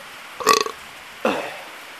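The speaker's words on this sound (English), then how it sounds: "Heard a little burp for you." Two short burps a second or so apart, the first choppy and the second lower and rougher, heard alone against quiet background.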